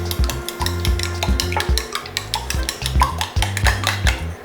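Two eggs with a pinch of salt beaten in a bowl for an egg roll, a utensil clinking and scraping against the bowl in quick rhythmic strokes, close and steady with no talking.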